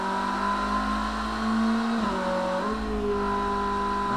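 In the Automation racing game, a car engine at full throttle pulls out of a turn with a steady high drone, a quick dip at a gear change, then rising revs again, loud and unbroken with no talking.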